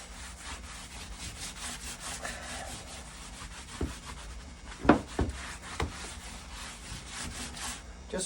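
Hand-rubbing paint into pallet wood gives a soft, steady scuffing texture throughout, with a few sharper knocks and contact sounds near the middle; no talking occurs.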